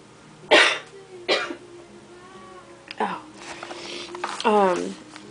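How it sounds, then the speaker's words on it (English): Two sharp coughs early on, then a throat-clearing rasp later, from a lingering cough after the flu, close to the mic with faint background noise. "Can't get rid of this cough yet"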